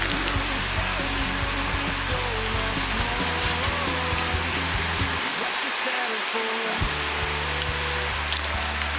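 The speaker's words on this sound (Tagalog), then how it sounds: "Ganda ng falls." A waterfall roars as a broad, steady rush of falling water, loud and continuous, and faint voices talk somewhere in the background.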